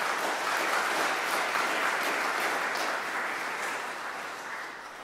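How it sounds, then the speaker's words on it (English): A church congregation applauds in a sustained, even wash of clapping that fills the room, moderately loud and steady, tapering slightly toward the end with no talking over it. "Let's give them now a round of applause."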